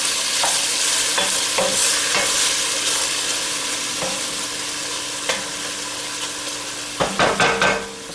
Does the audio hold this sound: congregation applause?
no